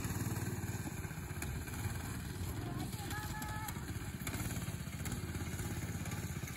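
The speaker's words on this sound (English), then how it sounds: "first ride on a go-kart" Predator 212cc go-kart engine running with a steady buzzing drone at moderate distance, continuous throughout, with voices talking over it.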